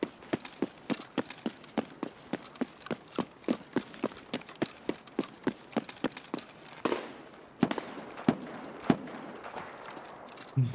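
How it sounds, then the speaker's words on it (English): Shotgun fire in the video game Escape From Tarkov: a long, steady run of sharp, punchy blasts about three per second, followed by a few louder, spaced shots near the end. "Is that a shotgun?"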